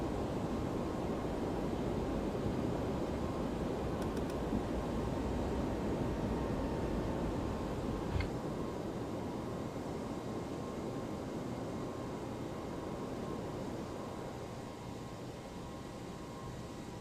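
Jet airliner engines roar steadily while climbing after takeoff in the X-Plane 12 flight simulator on a Nantes to Porto route, a broad continuous rumble that fades slightly toward the end, with no voices.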